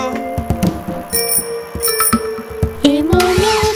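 A bicycle bell rings in quick, bright repeated dings over a cheerful children's nursery-rhyme backing track, loud and up close.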